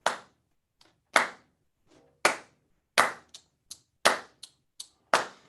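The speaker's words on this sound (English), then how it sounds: "So all we're going to do is clap the same rhythm." Hands clap out a rhythm in a percussion workshop, crisp claps in an uneven pattern with a few softer taps between the louder ones, close and dry with no talking.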